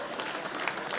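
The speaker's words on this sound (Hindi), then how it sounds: "उनके सम्मान में तालियां बजा सकते हैं" Audience clapping at a comic poetry recital, a brief burst of dense, even applause from many hands, moderately faint.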